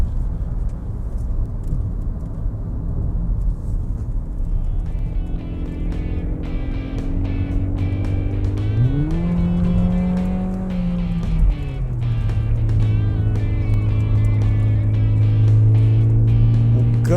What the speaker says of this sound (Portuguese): Aqui nós estamos dirigindo na condição esporte.